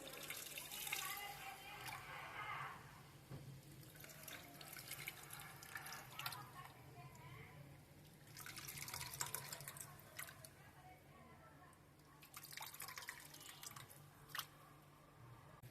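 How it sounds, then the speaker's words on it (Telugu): Water poured into a pan of tamarind fish curry made with ravva fish, giving trickling, splashing bursts at close range amid kitchen clatter and faint background sounds. "కొంచెం వాటర్ పోసుకుంటున్నాం"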